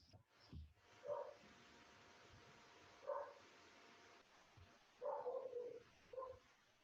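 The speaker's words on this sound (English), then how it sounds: "I hear a dog barking in the background." A dog barks several times some distance away, in short separate bursts spread across a quiet background, with no voices.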